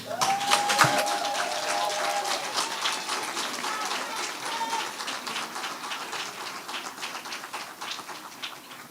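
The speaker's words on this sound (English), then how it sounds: "Give them another round of applause." Sustained applause from a crowd at a school graduation ceremony, steady dense clapping for about nine seconds that slowly thins toward the end, with a brief tonal sound near the start.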